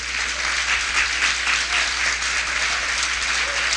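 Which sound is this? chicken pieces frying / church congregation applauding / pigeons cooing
church congregation applauding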